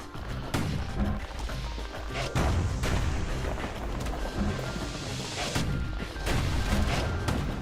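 Powerful gunshots in the video game Bastion: a rapid series of loud, sharp booming blasts at irregular intervals over dense background game sound, close and forceful, with no talk.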